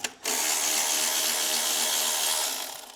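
A power tool, likely an impact driver or drill, spins a nut off the alternator of a Jeep Cherokee XJ with a 4.0 engine, giving one steady loud whir that lasts almost three seconds before winding down.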